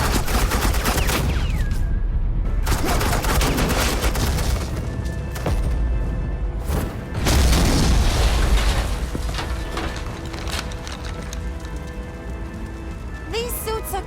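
Sustained gunfire from suppressing fire in the Batman: The Enemy Within game, a dense continuous crackle and rumble of rapid shots under a steady roar, loud and unbroken through most of the stretch.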